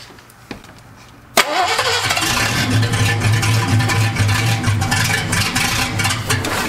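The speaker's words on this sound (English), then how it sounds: "we're going to get the car running" A 1978 Ford Fairmont engine cranks and catches after a brief quiet stretch, then runs loud and uneven, sputtering roughly at a rough idle.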